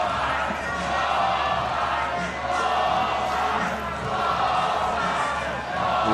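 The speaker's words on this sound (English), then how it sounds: "You can hear them chanting ball 5." At an NCAA women's softball game between Texas A&M and Liberty, the stadium crowd chants in repeated rhythmic waves, a broad roar rising and falling while a broadcaster talks over it.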